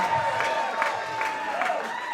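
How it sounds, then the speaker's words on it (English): A wrestling show crowd cheers for a costumed competitor called Nessie, giving a sustained roar of voices with bursts of whoops and applause, fairly close and filling the space. "Crowd heavily behind Nessie, yeah."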